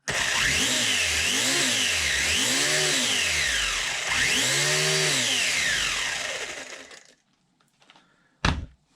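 A brushless motor in a WLToys 144001 RC car on a 2S battery whines loud and near, its pitch rising and falling in repeated sweeps as the car speeds up and slows, then cutting out, followed by a short knock.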